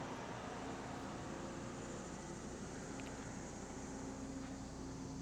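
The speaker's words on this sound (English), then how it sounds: "I've had a bunch of people say just how quiet this thing is idling" A quiet, steady engine idle from a 2026 Genesis GV70 Sport Prestige 3.5T SUV hums low and even, with a faint fan whir and no voices.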